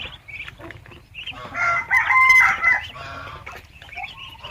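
Chickens cluck in a busy flock while a rooster crows loudly in the middle, a close, lively farmyard chorus.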